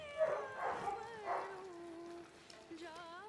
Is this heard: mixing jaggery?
no